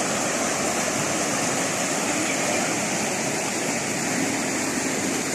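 Constant loud rushing of flowing river water at Sapang Munti River near Ipo Dam, a steady broadband roar with no pauses and no voices.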